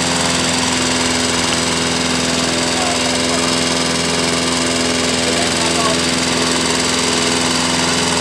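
A tractor engine runs close by at a steady, loud drone with strong low harmonic lines, unbroken for the whole stretch, with voices talking faintly underneath.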